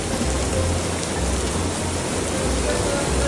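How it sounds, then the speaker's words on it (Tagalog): Heavy rain pours steadily at an airport in the Philippines, a dense broadband hiss close by with low rumbling thunder beneath, continuous and loud throughout. "Aroy, lakas ng ulan."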